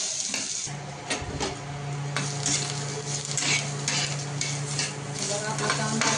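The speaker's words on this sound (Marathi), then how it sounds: "तांबूस होईपर्यंत चांगला भाजून घ्यायचा।" Onion being fried and stirred in a pan until browned, a steady sizzle broken by scraping spatula strokes against the pan and a constant low hum in the background.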